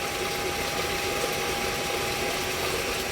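A solar-powered submersible water pump runs at a farm site in Roxas, Isabela, giving a steady, loud, unbroken drone with a thin constant whine layered on top and no talking.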